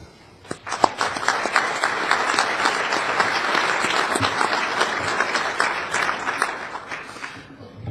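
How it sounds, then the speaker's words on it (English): Audience at a 2014 high school baseball coaches' Hall of Fame induction ceremony in a Sheraton ballroom in Indianapolis breaks into applause, a few sharp individual claps swelling into sustained, even clapping from a large room. "I'd like to give you a round of applause to the leadership for the group that keeps this thing going"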